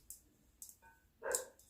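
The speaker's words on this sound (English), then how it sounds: "I can't help it if you hear dogs bark" Big dogs barking inside a house, several short sharp barks spaced apart, the last one louder and longer, with a few faint yips between, fairly quiet overall with no talking.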